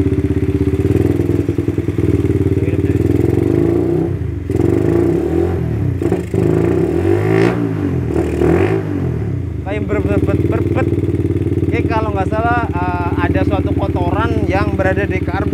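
A custom motorcycle nicknamed Dragon Blue, started after sitting unused for a long time, idles and revs with a steady rough engine drone and occasional clatter, while someone talks over it.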